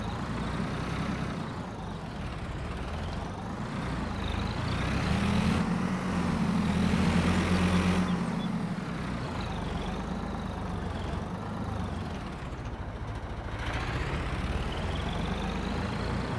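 A Turkish tractor's engine idling low on nearly empty fuel, a steady deep diesel rumble with a slight swell in the middle, heard close and continuous without talk.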